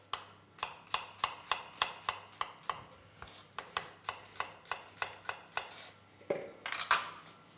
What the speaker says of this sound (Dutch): Kan daar een echalotje in snijden. Dat mag in grove stukken